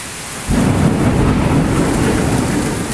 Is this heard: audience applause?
no